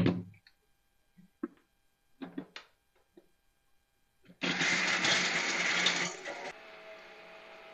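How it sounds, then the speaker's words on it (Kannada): A kitchen mixer grinder blends masala for spicy curry powder, starting after a few scattered taps and clinks with a loud whirring roar for about two seconds, then dropping to a lower, quieter spinning hum. "ಮಿಕ್ಸಿ ಮಾಡ್ಲಿ ಒಮ್ಮೆ ಈಗ ಮಿಕ್ಸಿ ಮಾಡಿ"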